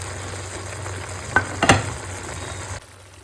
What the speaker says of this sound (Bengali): মশলাটা একটুখানি ফুটিয়ে নিয়ে এর মধ্যে দিয়ে দিচ্ছি মাশরুম ভেজে রাখা